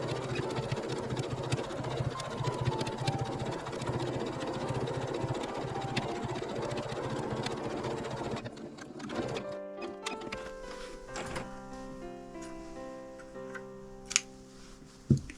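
Sewing machine stitching a patchwork hexagon tote bag, a rapid mechanical ticking run of needle strokes for several seconds, then stopping, followed by quieter handling clicks and knocks nearby.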